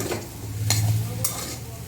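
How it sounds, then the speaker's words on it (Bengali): Soybean chunks fry with vegetables including beetroot in a pan, a close sizzle under a couple of sharp stirring scrapes over a low steady hum. "তার মধ্যে সোয়াবিনগুলো দিয়ে এখন ভাজছি"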